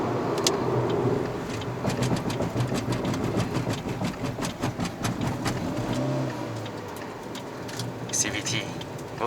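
A 2022 Proton Persona 1.6 with a CVT gearbox accelerates on the road, its engine drone rising and holding steady, heard from inside the cabin along with road and wind noise.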